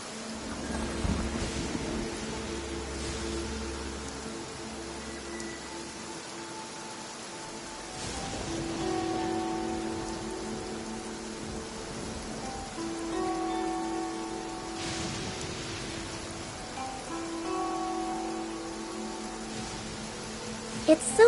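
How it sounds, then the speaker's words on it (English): Rain falls steadily on a courtyard in Genshin Impact, a continuous wash of patter with low rumbles of thunder rolling in at intervals, heard close and fairly loud. "It is something of a luxury, but I love listening to the rain from the courtyard."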